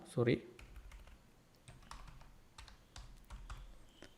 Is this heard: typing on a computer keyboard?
yes